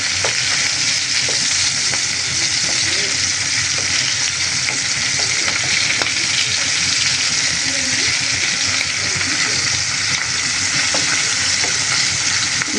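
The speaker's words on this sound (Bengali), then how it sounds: "মাছটা ভাজা হোক" Hilsa fish pieces fry in hot oil in a Bangladeshi home kitchen for a fish curry with cauliflower, beans, potato and tomato, giving a loud, continuous, dense sizzle close by with faint crackles throughout.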